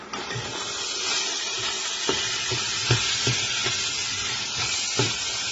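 Green pepper and onion browning with meat in a pan give a close, steady sizzle, with the periodic scrape and knock of a utensil stirring.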